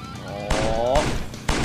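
Three abrupt, loud gunshot bursts ring out at roughly half-second intervals in the Road Redemption combat racing game, with a voice audible between them.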